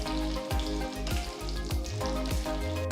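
Steady crackling sizzle of black pepper and red chillies dry roasting in a hot pan with repeated scraping strokes of a spoon stirring at a regular pace, close up.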